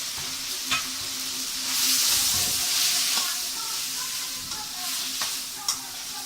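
Grated coconut and curry leaves sautéing with onion and tomato for a Tamil crab curry, a loud close sizzle with intermittent spoon scrapes and stirring, swelling briefly in the middle, no talking.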